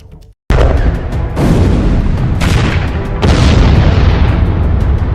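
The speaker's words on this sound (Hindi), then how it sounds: "एक टैंक आपको दिखेगा और फिर धमाका होता है।" Tank hit by an attack in war footage, a sudden massive blast followed by several more heavy booms that roll on into a loud sustained rumble, very close and overwhelming.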